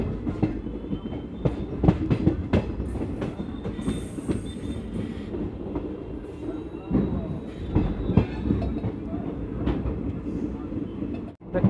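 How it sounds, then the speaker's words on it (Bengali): The 13160 Jogbani–Kolkata superfast express rolls along, heard from inside the carriage as a loud, steady rumble with rhythmic clickety-clack and occasional wheel squeal, faint voices mixed in. "এরপরে ট্রেন আমাদের দাঁড়াবে পূর্ণিয়াতে"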